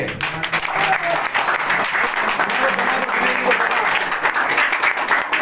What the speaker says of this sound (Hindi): ताली बजती रहनी चाहिए।